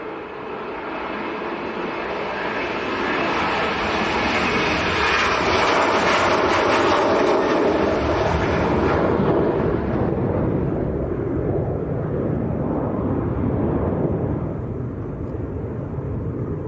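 An aircraft at Leeds Bradford Airport, heard as a loud, continuous roar that builds and then slowly fades as it passes, with no other sounds over it.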